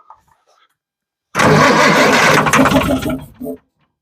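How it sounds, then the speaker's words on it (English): A homemade RV's Perkins diesel, parked for thirty years and full of air, cranks loudly for about two seconds without firing, the starter churning close up before cutting off, with a brief burst just after. "All right, try and crank it just a little."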